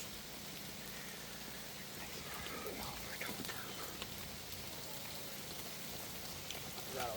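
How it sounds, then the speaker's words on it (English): Heavy rain drums steadily on a tent during a camping thunderstorm, a dense, continuous hiss of close raindrops pattering across the fabric with no break for the whole stretch. "They're all picking up the rain from the top a little harsh."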